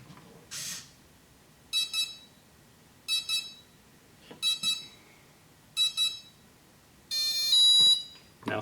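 An H-King paramotor's motor controller, set up with Spektrum gear, sounds a series of short electronic beep bursts after the battery is plugged in: several evenly spaced chirping tones, then a longer, louder final tone.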